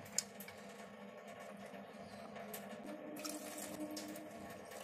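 Sona masoori moong dal is rinsed under running tap water in a kitchen sink, giving a faint, continuous splashing trickle with small clinks.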